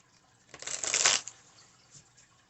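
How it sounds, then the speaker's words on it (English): Tarot cards riffle in one quick close shuffle lasting about a second, a crisp papery burst in an otherwise quiet room. "Let's get a better shuffle."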